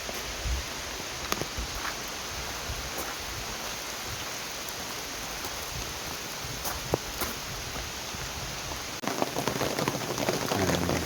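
Steady rain falls on a campsite at Occoneechee State Park, a dense hiss with scattered sharper drips on nearby surfaces, growing heavier and closer near the end.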